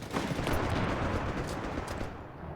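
Dense machine gun fire and other gunfire crackle in a continuous, loud burst of overlapping shots during a Company of Heroes 3 match, with no voices.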